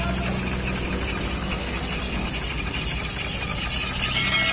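An electric water pump, converted from a ketinting boat engine and now driven by a washing machine motor, runs with a steady, loud mechanical hum and rattling vibration, close and continuous with no talking.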